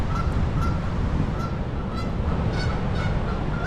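Geese honk repeatedly in a steady series of calls near Niagara Falls, set against a loud, constant roar of rushing water that fills the background throughout.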